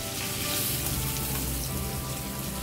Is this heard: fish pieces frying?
yes